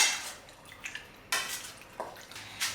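Marinated ribs being mixed in a bowl with a tablespoon, the marinade holding Chinese rice wine and sauces, giving a few soft scattered clinks and wet scraping sounds, close and fairly quiet with pauses between.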